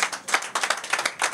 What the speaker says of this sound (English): Round of applause. Bravo. Bravo.